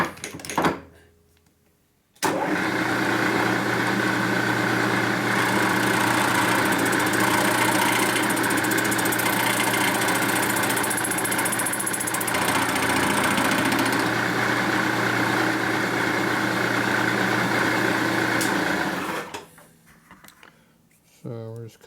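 A machine runs loud and steady while cutting a 1958 or 1960 Harley-Davidson Panhead cylinder head during restoration, spinning up after a short quiet pause, holding an even drone for about seventeen seconds, then winding down.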